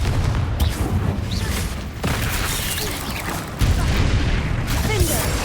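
Confringo spell blasts in a Hogwarts video game, several loud booming bursts over continuous battle noise and effects, with a voice calling out spells.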